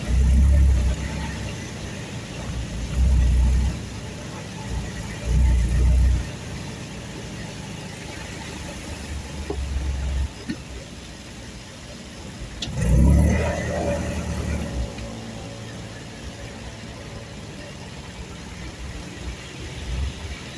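Cars passing in traffic on a wet road during steady rain, engines swelling and fading as vehicles go by, with a louder pass near the middle over a constant background hiss.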